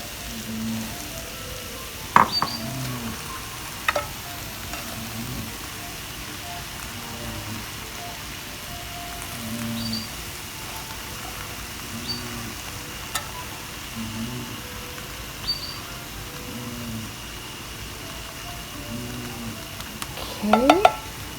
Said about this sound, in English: I'm going to throw the mushrooms in right about now